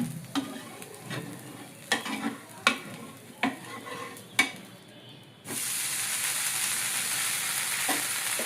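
Dosas cooking on a hot griddle at home, several sharp spatula taps and scrapes in the first half, then a loud steady sizzle as batter hits the pan.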